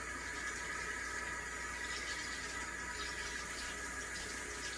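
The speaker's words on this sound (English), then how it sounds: "Let me wash it off. I don't want that to dry on there." Water runs steadily from a kitchen tap as a dish is rinsed off after mixing homemade loaf bread dough, a constant hiss and splash, fairly quiet and unbroken throughout.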